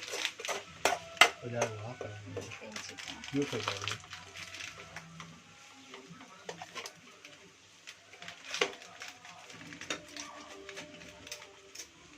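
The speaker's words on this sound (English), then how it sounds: "Let's mix and fry." Onions stirred and fried in a pan for a spicy fried onion curry: a soft sizzle broken by irregular spoon clatters and scrapes against the pan, with a low hum in the background.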